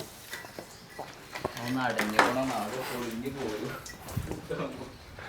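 Plates being lifted out and set down in a home kitchen, with a few light ceramic clinks and clatters mixed under steady close conversation.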